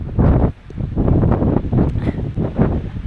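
Strong, freezing wind on the coast roars and buffets steadily against the microphone, loud and close, with gusts rising and falling and no talk.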